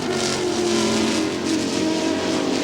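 Race cars from a 1999 American Le Mans Series round at Sebring, Ferrari and Porsche among them, roar hard into turn one side by side, loud and sustained engine drone with no break.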